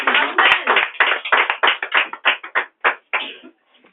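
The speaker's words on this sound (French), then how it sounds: "Sur vos acclamations, acclamez Jésus pour votre président." A church congregation claps in a quick, loud burst of separate claps that thins out and stops after about three and a half seconds, with no voices over it.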